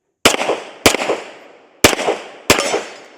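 Four sharp, loud pistol shots from a Sig P320 SXG firing 147 grain rounds, spaced unevenly about a second apart, each trailing off in a short echoing decay, with no talking.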